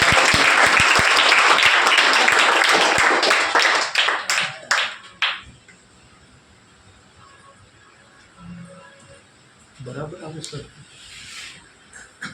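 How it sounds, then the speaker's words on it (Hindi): Audience clapping loudly to welcome a guest, Parsaram Chaudhary, at a student toppers' felicitation event; dense applause for about four seconds, then it fades out, with later quiet speech and a brief murmur. "एक बार जोरदार तालियों से आपका"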